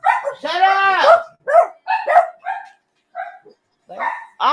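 Dogs bark in a run of sharp, close yips and howl-like barks, with a shouted voice breaking in between the bursts and short gaps of quiet.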